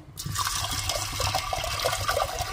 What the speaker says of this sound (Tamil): இது மூழ்கிற அளவுக்கு நம்ம தண்ணி ஊற்றிக்கலாம்.